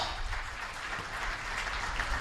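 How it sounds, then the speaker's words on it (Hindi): Audience clapping at a gathering where a Jain monk visits the Chief Minister's residence, a short burst of broad, continuous applause with low rumble underneath. "जोर से तालियां बजा लो"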